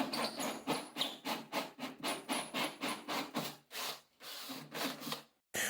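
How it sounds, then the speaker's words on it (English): A 50 mm (2-inch) hole saw grinding through plasterboard on a wall: a rapid, rhythmic rasping cut of repeated strokes, close and fairly loud, briefly pausing and then stopping at the end, with no talking. "we'll start off using a 50mm or 2-inch hole saw to cut through the plasterboard"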